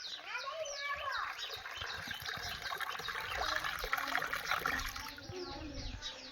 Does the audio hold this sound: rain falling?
no